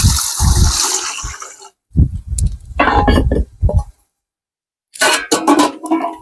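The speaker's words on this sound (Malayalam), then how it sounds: "എന്നിട്ട് ഇതിൽ ഞാൻ വെള്ളം കൂട്ടുന്നു" Water is poured into a cooking pot on the stove while making jackfruit papad, coming as close, loud gushing bursts broken by short silent pauses.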